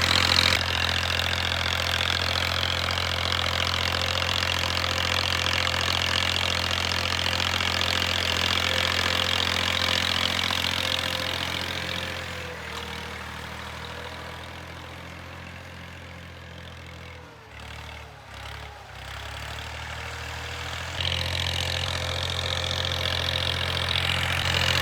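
A tractor ploughs a farm field being prepared for vegetables. Its engine drones steadily and fairly loud, eases off and thins out through the middle, then returns to a full rumble, with no voices.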